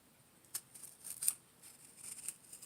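An aloe vera leaf is cut into small pieces with a handful of faint, crisp snips spaced irregularly in a quiet room.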